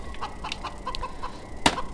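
A chicken in the video game Hunted: The Demon's Forge clucks in short repeated bursts, with one sharper, louder squawk near the end.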